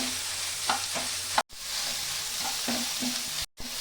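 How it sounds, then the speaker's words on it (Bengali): Soybean chunks sizzle steadily in a hot pan while a spoon scrapes and stirs them at intervals, with two brief moments of sudden silence. "ভালো করে ভেজে নেব।"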